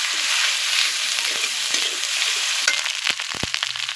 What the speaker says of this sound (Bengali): এবার রসুন বাটাটা দিয়ে দিচ্ছি